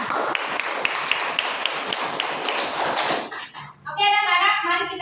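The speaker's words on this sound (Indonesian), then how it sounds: "Ayo kita tepuk tangan untuk kita semua." Children clap together in an elementary school classroom, a dense burst of hand claps for about three and a half seconds, then a voice rises and speaks briefly afterward.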